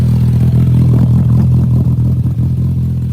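A 2025 Polaris RZR Pro R side-by-side with a liquid-cooled 1,997 cc, 225 horsepower engine idles close by with a deep, steady rumble and slight rough pulsing throughout.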